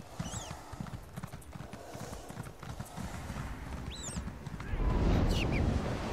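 In a video game, a ridden horse's hooves clip-clop at a steady gallop while circling, close and clear, with faint whistling calls above and a louder rushing swell near the end.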